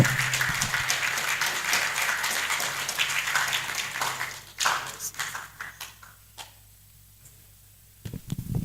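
At the 77th Annual New Year School and Conference, a crowd applauds Frederick Emisa's arrival. Loud, full clapping fills the hall for several seconds, then thins and fades to a few scattered claps before a brief renewed burst.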